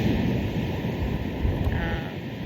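Ocean surf makes a steady, broad rushing wash with a low rumble. It stays close and fairly loud throughout, with buffeting wind against the microphone.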